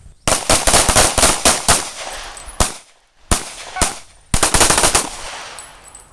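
Sharp handgun shots in a combat shooting drill, fired in rapid close bursts with a few single reports between, loud and near in an outdoor range setting.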